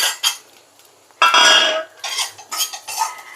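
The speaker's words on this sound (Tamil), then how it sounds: "ஸோ பாருங்கள், வறுக்கிறோம். டப்பன்னு சத்தம் கேட்குது." Whole spices dry roasting in a pan for mutton curry, giving scattered sharp pops and clinks in short bursts, close and fairly loud with quiet gaps between.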